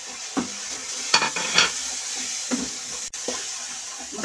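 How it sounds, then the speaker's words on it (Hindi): Spices and vegetables stir-fry in a pan for an Indian aloo baingan soyabean sabzi, a steady close sizzle broken by several sharp scraping stirs and clinks of a spoon, with no talk. "इसे अच्छे से मैं भूनने दूंगी और इसी के साथ मैं ये मसाले भी डाल दूंगी"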